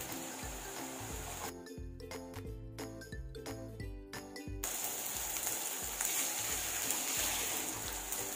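Onion and cold ginger-garlic paste frying in a pan give a soft, continuous sizzle that swells louder in the second half, with a brief tonal interruption partway through.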